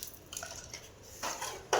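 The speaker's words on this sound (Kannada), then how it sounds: "ಅರಿಶಿನ ಪುಡಿ ಹಾಕ್ಕೊಂಡು ಚೆನ್ನಾಗಿ ಮಿಕ್ಸ್ ಮಾಡ್ಕೊಳ್ಳಿ" A spoon scraping and clinking against a pan while turmeric powder is stirred into cauliflower curry, a few soft, irregular metallic taps and scrapes, fairly quiet and close.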